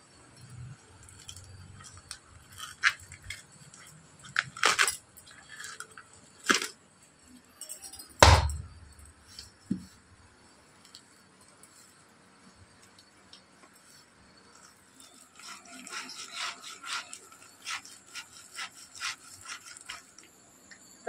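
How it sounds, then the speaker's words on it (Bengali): Peeled palmyra palm fruit is rubbed and grated by hand, giving scattered scraping strokes and knocks, some sharp and loud, then a denser run of quick rasping strokes near the end. "তো তালটা আমি ঘষে নিয়েছি ভালোভাবে"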